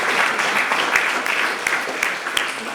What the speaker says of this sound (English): If we can give our panelists a round of applause.